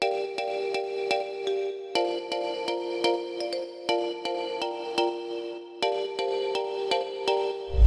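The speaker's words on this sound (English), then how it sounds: "Now we can move on to that kalimba sound you can hear." Bright, bell-like plucked kalimba synth notes repeat in a steady, rhythmic deep house pattern, forming a looping melodic phrase with no voices.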